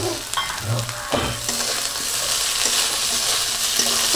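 Raw onion sizzles steadily in a hot pan while soybean and egg curry is cooked, with a bright continuous fry and a few clinks and stirring scrapes near the start.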